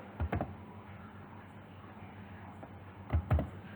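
Keys tapped on a computer keyboard while entering text for an HTML heading, two short bursts of close clicks near the start and end with quiet room noise between.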